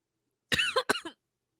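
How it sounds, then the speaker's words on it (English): A short burst of two or three harsh coughs, close and fairly loud, over about half a second with silence around them. "Sorry, I coughed."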